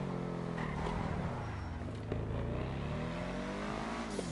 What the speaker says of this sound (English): But it has the sound of a V6.